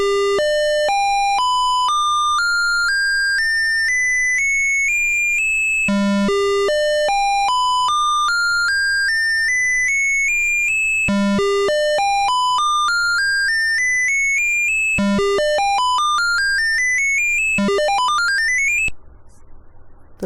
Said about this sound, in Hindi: चलिए अब प्रोग्राम को रन करके बीप साउंड को सुनते हैं